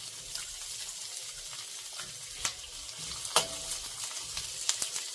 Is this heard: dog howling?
no